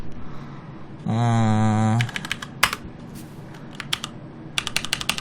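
Computer keyboard typing: a run of sharp, irregular key clicks, close and fairly clear, following a brief buzzing electronic tone, with no voices.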